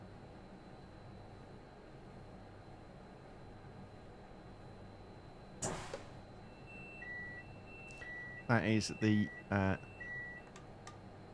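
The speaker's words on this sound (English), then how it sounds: "Quick warning, I think that will beep again in a moment or two." Tilt system initializing beeps in the Train Sim World 5 Class 390 Pendolino cab, a few short repeated electronic beeps at moderate level, heard alongside someone talking over a quiet cab hum.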